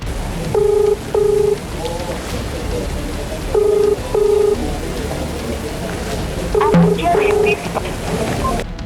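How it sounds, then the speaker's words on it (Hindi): Telephone number dialed, bright beeping keypad tones in short paired bursts repeated in several groups, loud and close over a low background hum. "सबसे पहले हमारे संवाददाता राजीव सिंह ने देवलाली सीट से विधायक सरोज अहीरे को फोन मिलाया।"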